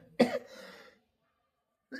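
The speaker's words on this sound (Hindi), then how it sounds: "सॉरी भाई, खांसी आ रहा।" A man gives a single close, harsh cough that trails into a brief raspy rumble, followed by silence before he starts to speak again.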